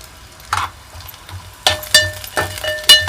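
Garlic and curry leaves fry in hot oil, a steady soft sizzle punctuated by several bright crackling bursts and faint clinks of a utensil, close by and without speech.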